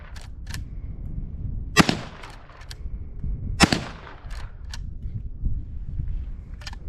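A .50 caliber rifle fires at the steel bucket of an excavator outdoors, two loud sharp shots a couple of seconds apart, with a few fainter clicks and handling noises in between.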